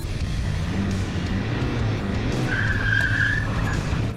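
Car burnout with tires skidding and squealing against the ground, a continuous loud roar of engine and rubber building toward a sharp high squeal, close by and without talk.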